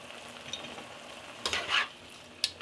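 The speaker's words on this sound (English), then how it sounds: "Give this a stir. Let this cook for about a minute." Minced garlic cooks in a soup pot for beef vegetable soup, a quiet sizzle broken by a few close scraping stirs of a spoon against the pot and a sharp tap near the end.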